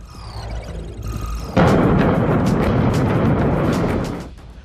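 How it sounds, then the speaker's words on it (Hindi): A massive demolition blast bringing down the Twin Towers, a tall residential building pair: after a quieter lead-in, a sudden loud booming rumble swells and sustains for about two and a half seconds before fading out. "कुछ सेकंड का धमाका"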